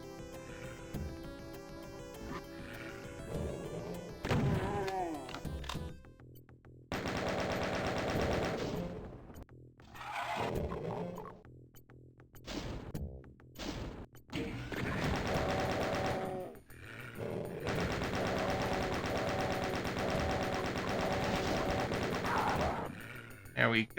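In the video game DOOM II, rapid bursts of gunfire come in several loud clusters of shots with short pauses between them, with thuds and game sounds mixed in and a voice talking at times.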